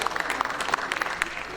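Applause from an audience at a literary award ceremony: brief, fairly dense clapping, heard close and moderately loud for under two seconds.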